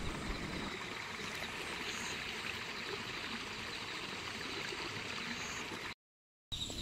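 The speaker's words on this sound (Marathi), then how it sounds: "बाजूलाच हा छोटासा झरा आहे" A small stream flows beside a green field in a village, making a steady, soft, continuous trickle and rush of water with no voices, briefly cutting out near the end.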